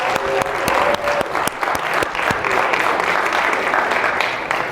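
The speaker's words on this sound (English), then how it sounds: "Please give him a big round of applause." A studio audience at a late-night talk show game pitting teachers against students bursts into loud, sustained applause, dense clapping filling the room for several seconds.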